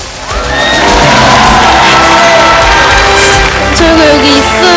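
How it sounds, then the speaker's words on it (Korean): A crowd at a final event gives loud, sustained applause mixed with cheering and whoops that swells within the first half second and stays dense and near. "박수 보내주세요 여러분."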